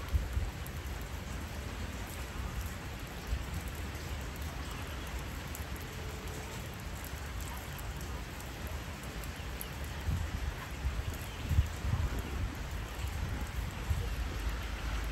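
Heavy rain pours steadily outdoors at a riverside fishing spot, a dense, unbroken hiss of drops drumming on surfaces with a low rumble underneath, loud and close throughout with no voices.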